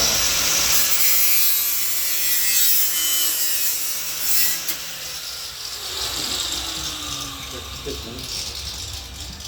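A grinder works steadily on the lower door panel of a 1951 Ford sedan, a harsh continuous abrasive whine and rasp that shifts slightly in pitch, with a voice talking over it.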